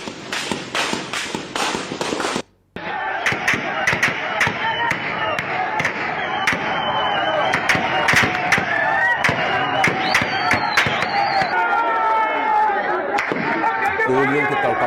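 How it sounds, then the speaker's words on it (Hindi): Sharp cracks of gunfire from Pakistani Rangers ring out in Pakistan-administered Kashmir in rapid, irregular bursts, loud and sustained, with people talking and shouting in the background. "गोलियों की कड़कड़ाहट साफ सुनाई दे रही है और ये गोलियां बरसाई जा रही हैं पाकिस्तानी रेंजर्स की तरफ से"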